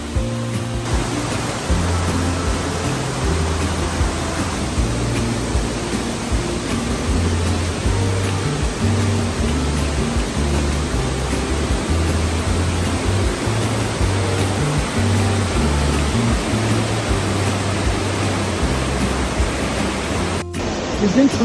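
A waterfall in the Ötztal, Austria, roars as a dense, steady broadband rush right beside a stairway, loud and continuous throughout, with a low irregular rumble beneath.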